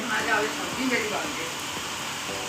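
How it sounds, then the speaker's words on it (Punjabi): Steady rain falling in a village while sunshine breaks through the clouds, a continuous soft hiss of drops hitting surfaces, fairly close, with faint voices in the background. "ਇੱਥੇ ਮੀਂਹ ਪੈਣ ਡਿਆ ਤੇ ਇੱਕ ਬੰਨੇ ਧੁੱਪ ਨਿਕਲੀ ਪਈ ਹੈ"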